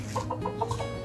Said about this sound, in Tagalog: Pero gutom pa yata yung manok kung nakatingala pa sa'yo